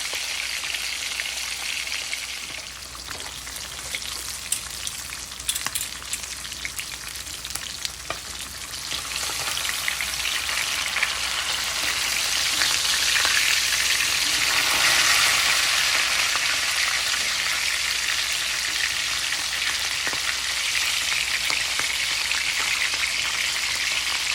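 Snapper fish sizzles and crackles in hot oil over a flame, a loud, steady frying hiss with scattered pops and spits that grows fuller partway through, heard alone without talk.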